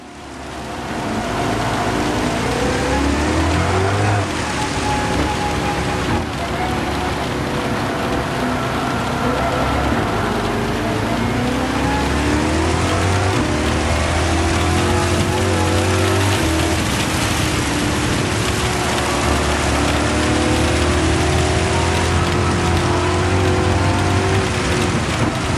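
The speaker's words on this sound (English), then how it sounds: "We get into the Nordschleife again and the rain seems to be heavier now." Heavy rain drumming steadily on a racing car lapping the Nordschleife in a racing video game, a loud continuous wash with a low engine drone beneath.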